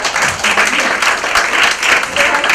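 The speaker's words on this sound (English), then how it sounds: "I think just a huge round of applause just for" Audience applause at a panel discussion on women's economic empowerment in Mumbai, continuous and fairly loud clapping from a crowd throughout.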